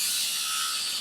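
Hinged Mountain Dew toxic waste receptacle box being opened: a brief, close, hissing scrape and creak of the mechanism lasting about a second, with no talking.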